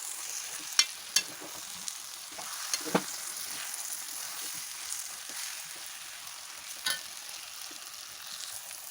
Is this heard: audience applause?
no